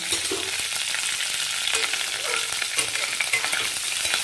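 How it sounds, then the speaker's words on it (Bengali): Two dried red chillies hit hot oil for sambar, setting off a bright, steady sizzle with fine crackling that stays close and even throughout, with no voices over it. "এই দেখো এইবার এতে আমি দুটো শুকনো লঙ্কা দিয়ে দিচ্ছি"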